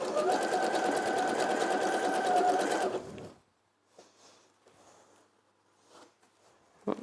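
A sewing machine runs steadily for about three seconds, zigzag stitching binding onto a quilted lining and batting, then stops, leaving quiet handling sounds.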